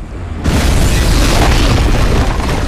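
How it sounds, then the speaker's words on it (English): Loud, sustained explosion in the video game Resident Evil 6, a sudden booming blast that bursts in after a short lead-in and rumbles heavily through the rest of the moment without fading. "Big boom."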